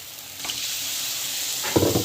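Masala sizzles and fries in oil in a pan as it is sautéed, a steady close crackle with a brief louder stir near the end.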